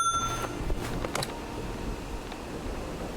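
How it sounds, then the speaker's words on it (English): Phone ringing in the puzzle mystery game Dimhaven, with a short electronic beeping tone at the start followed by a few light ticks and clicks over a quiet background hum. "Oh, the phone is ringing."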